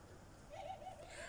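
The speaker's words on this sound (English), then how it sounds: "There's three roller pigeons there." Roller pigeons coo in one soft, brief, low call, faint and distant over steady outdoor background noise.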